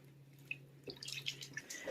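Water sloshes and drips faintly in a bucket of plain rinse water while an endoscope is cleaned, with small splashes and trickles at low volume.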